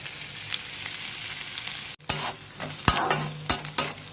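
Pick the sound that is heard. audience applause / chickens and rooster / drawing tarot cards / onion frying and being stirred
onion frying and being stirred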